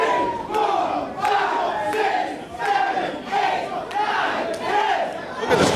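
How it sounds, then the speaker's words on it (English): A loud wrestling crowd chants in unison, counting along with ten punches thrown in the ring, the rhythmic shouts rising in regular waves and filling the arena. "Look at this crowd just counting along with Andretti."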